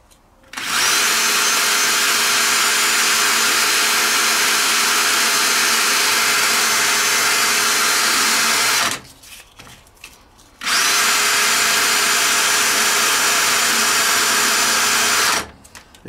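A sharpened tungsten electrode for a TIG welder is polished with fine emery tape on a spinning power tool, a loud steady whirring in two long bursts separated by a short pause.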